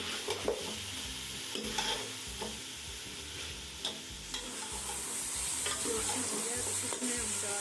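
Chicken with green chillies and paste sizzles in a pan for biryani while a spoon stirs it, scraping strokes punctuating a steady crackling fry that grows hissier toward the end.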